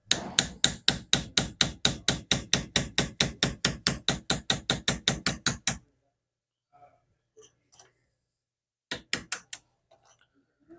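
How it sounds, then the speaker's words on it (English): A steel punch is hammered against a pistol sight in a dovetail on a Springfield XDS: a rapid, even run of about thirty sharp metallic strikes, then silence and a few scattered taps and blows. "We're going to get our sight punch fits the dovetail"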